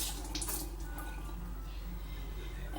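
Cold tap water runs steadily over hard-boiled eggs being peeled for chicken salad, a continuous close splashing stream from start to finish.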